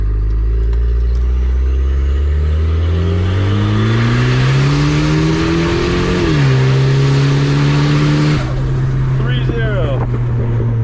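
A turbocharged stock wagon engine runs at 30 psi boost, revving loud and close as its pitch climbs steadily, dips briefly, then holds high before easing off, with a whooshing turbo hiss throughout.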